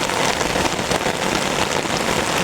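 Rain pattering steadily and densely on an umbrella out in the bush, a close, even hiss of drops with no voices.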